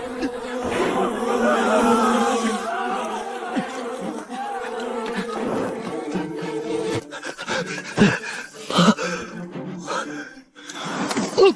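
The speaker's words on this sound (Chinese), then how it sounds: "马蜂，救命啊！" A swarm of hornets buzzes loudly in an animated costume drama, a dense droning hum filling the scene, with gasps and cries breaking through toward the end.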